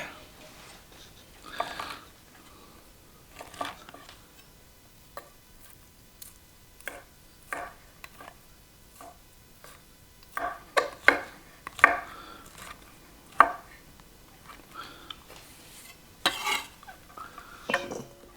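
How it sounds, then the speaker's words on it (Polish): Knife dicing an ingredient into cubes for an Easter rice salad, heard as irregular sharp taps and clusters of cuts on a board, fairly quiet with gaps between bursts. "musimy ją sobie oczywiście pokroić. No i oczywiście klasycznie w kostkę."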